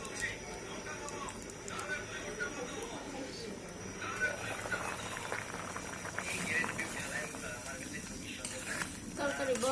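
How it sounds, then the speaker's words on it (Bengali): Vegetable curry bubbles in a cooking pot, a soft, irregular boiling and simmering with faint clinks, heard fairly close under a low background of household sounds. "তরকারি বড় ফুটে আসছে"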